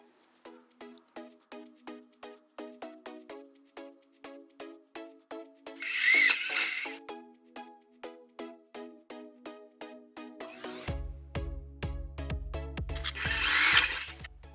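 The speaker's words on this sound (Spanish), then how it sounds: "hacer los taladros" A drill bit boring holes in wood through a guide jig for a woodworking joint, a steady run of regular mechanical ticks broken by two loud whirring bursts of drilling close by.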